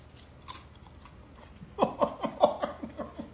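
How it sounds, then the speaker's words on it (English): Crunchy food, apparently eggplant casserole prep, is bitten and chewed loudly in a rapid series of close crisp crunches, preceded by quieter moments and possible laughter. "Listen to this crunch."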